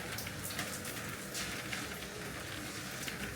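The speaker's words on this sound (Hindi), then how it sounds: "अभी भी इतनी तेज़ आवाज़ आ रही है भैया, बहुत तेज़ बरसात है, रुकने का नाम नहीं ले रही" Heavy rain pours steadily in a dense, continuous hiss with scattered drop impacts, loud and close throughout.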